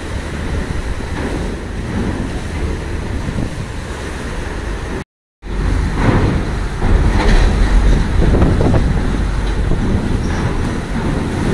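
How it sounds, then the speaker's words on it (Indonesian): Strong wind and high waves at Bakauheni harbor on the Sunda Strait make a loud, steady roar of gusting wind and surf, with a brief dropout midway and no voices. "pantauan kita di Pelabuhan Bakauheni seputar cuaca, angin serta gelombang"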